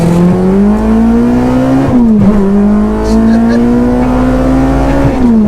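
A cammed K24-swapped DC2 Type R pulls hard on a racetrack, its loud engine note climbing steadily through the gears with brief dips at each shift, heard close from inside the car.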